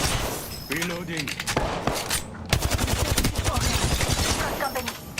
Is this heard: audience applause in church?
no